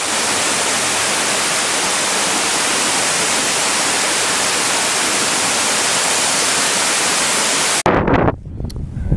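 Waterfall on the trail up Ocejón from Valverde de los Arroyos, heard from very close as a loud, steady broadband roar that fills the clip, then cuts off abruptly near the end, leaving a brief quieter stretch.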